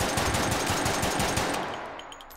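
A cyber pistol in the VR game Hot Dogs, Horseshoes & Hand Grenades fires a dense rapid burst of shots, loud and close, then trails off into fading echo and a few faint clinks.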